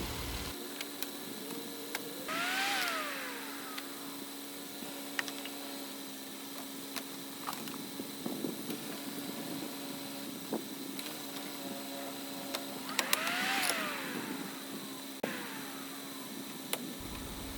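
A Jeep Wrangler JK engine idles while warming up after a radiator replacement, giving a steady low hum with scattered ticks and clicks and two rising-and-falling whines partway through.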